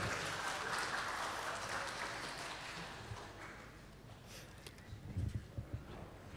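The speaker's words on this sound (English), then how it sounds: "please give applause for the book launching for this morning" Audience applause at a book launch during an international summit of religious leaders, a steady wash of clapping from a large crowd that gradually thins and fades, ending with a few scattered claps.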